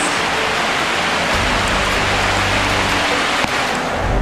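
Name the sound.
rain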